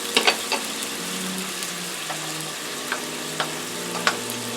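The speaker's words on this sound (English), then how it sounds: "now my shrimp are cooking" Shrimp sizzle in a hot pan, a steady crackling fry with a few sharp clinks and scrapes of a utensil spaced through it, close and moderately loud with no talking.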